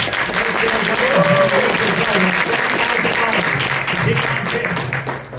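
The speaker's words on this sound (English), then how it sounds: "Give a round of applause for Fish right there." Loud, close audience applause for a contestant during a Furry Jeopardy game at the LVFC 2023 convention, sustained for several seconds with voices talking over it before it tapers off at the end.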